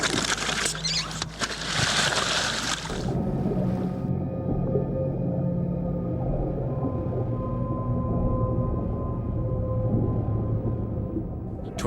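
Long, low tonal moans and drawn-out calls of whales underwater, after a brief burst of splashing and hiss at the start, with no talking.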